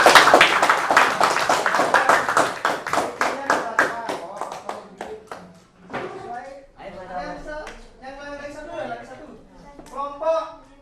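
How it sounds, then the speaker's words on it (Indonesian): A group of participants at an Indonesian teacher coaching session clap in a quick, brisk burst that thins into scattered claps, with people talking over the tail end. "Ya, bantu tepuk tangan"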